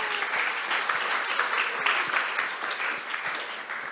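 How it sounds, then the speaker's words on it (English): Delegates at a semi-final competition event give a round of applause, a sustained, fairly loud patter of many hands clapping throughout, with no voices over it. "Everyone, please give yourself a round of applause once again, delegates."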